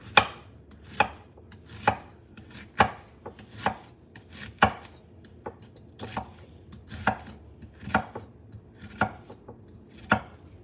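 A knife chops a Vidalia onion on a cutting board in a home kitchen, sharp close thuds landing in a loose, unhurried rhythm of about a dozen strokes with no talking.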